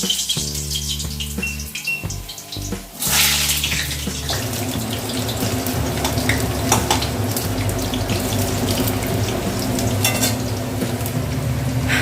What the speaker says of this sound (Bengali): কড়াই তেল গরম হয়ে গেছে দেখো। এখন আলুটা ভাজবো।